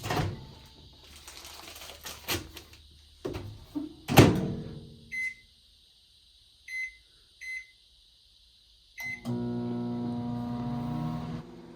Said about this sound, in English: we're gonna go ahead and throw the bacon in the microwave.